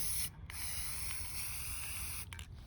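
An aerosol spray can hisses loudly and close by, holding one long continuous burst with brief gaps near the start and end, as paint is sprayed onto craft pieces in the cold outdoors.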